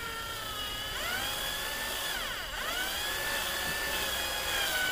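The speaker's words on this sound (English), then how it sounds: "so I'm just going to slowly drill." Power drill whining steadily as it slowly bores into a BMW F30/F31 side skirt, a high, thin tone that briefly dips in pitch under load midway, moderately close with no talking.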